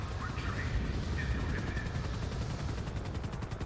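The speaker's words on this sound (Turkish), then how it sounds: "Adam sokağın ortasına helikopter indirdi." Helicopter landing in the middle of a street in GTA 5 with a police mod, a steady thudding rotor chop running throughout, fairly loud.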